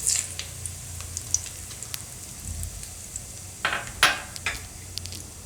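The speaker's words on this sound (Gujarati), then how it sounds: "તો તેલ આપણું ગરમ થઈ ગયું છે, તો એમાં આપણે નાખીશું જીરું અને તેજપત્તા" Cumin seeds and bay leaves crackle in hot oil in a home kitchen pan for an Indian curry, a low steady sizzle with a few sharper pops and spatters near the end.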